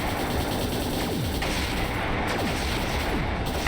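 Missile attack in the video game Trails in the Sky the 3rd: a dense, continuous barrage of explosive bursts and falling whistles, loud and sustained throughout with no talking.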